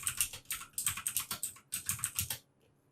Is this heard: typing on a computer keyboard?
yes